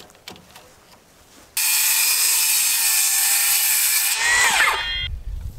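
A power saw whines loudly for several seconds while cutting wooden posts for trimming, starting abruptly after quiet knocks and shifting pitch near the end as the cut finishes.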